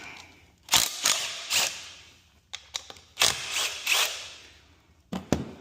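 Intake bolts come off a C7 Corvette with a ratchet in several short, loud bursts of sharp clicking, each separated by brief quiet gaps.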